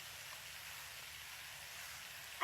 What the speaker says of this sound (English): he sees these snake sprinklers watering all the plants, shooting around